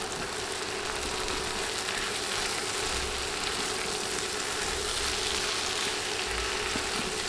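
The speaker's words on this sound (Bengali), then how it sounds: "চিনি দিয়ে ভালোভাবে নেড়ে দিচ্ছি" Sweet pumpkin pieces frying with a spoonful of sugar in a pan, a steady close sizzle with soft stirring scrapes and no talk.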